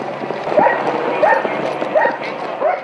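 Police dog barking at a house during an armed call-out, four evenly spaced loud barks about every 0.7 seconds over a busy background with other voices.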